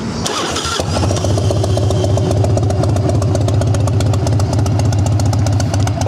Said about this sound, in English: I'll fire it off and let you listen to it